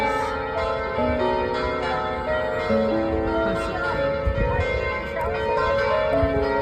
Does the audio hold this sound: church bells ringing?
yes